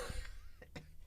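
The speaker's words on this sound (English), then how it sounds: "excuse my coughing on air" Two short, sharp coughs from a radio host during a live on-air morning broadcast, close to the microphone, following a faint breathy sound.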